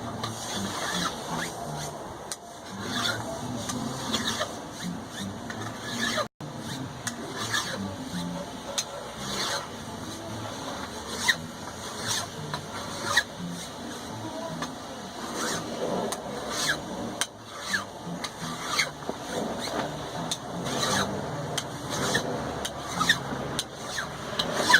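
Steady abrasive scraping as a cable Damascus steel die is ground down by hand, a continuous rasping texture with small irregular bumps and one sharp knock partway through.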